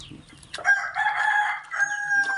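A rooster crows nearby on a backyard chicken farm, a loud drawn-out call that rises and holds, following some faint scratchy background noise.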